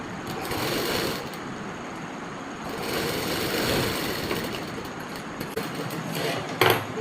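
A sewing machine runs steadily while stitching a seam on a semi-Patiala salwar, a continuous close mechanical whirr with brief pauses and slight shifts in pace.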